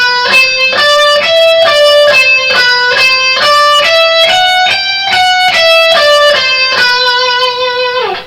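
Slow, evenly spaced distorted electric guitar notes step through a four- and six-note picking combination, each note distinct and ringing clearly, played alone at steady volume.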